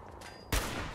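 A single loud gunshot from a Fallout 4 firefight lands halfway through, a sharp close blast that leaves a dense echoing tail, with no talking.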